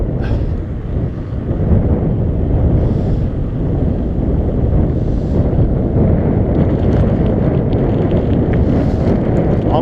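Steady, loud wind roars and buffets the microphone of a cyclist riding into a headwind without a break, a constant rushing noise with no voices.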